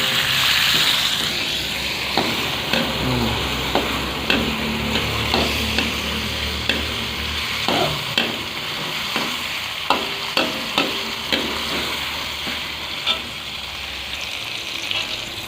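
Vegetables stir-fried in a pan until wilted, a steady sizzle with regular scraping and clacking strokes of the spatula, close and fairly loud, no talking.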